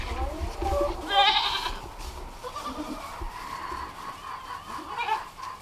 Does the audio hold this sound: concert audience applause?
no